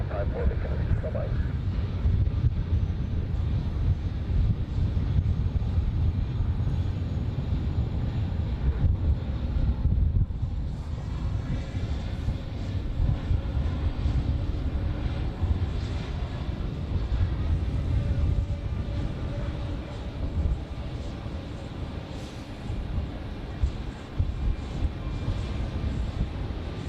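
A small aircraft takes off at Zurich Airport, a steady engine drone from some distance mixed with gusty wind buffeting the microphone, with people talking over much of it.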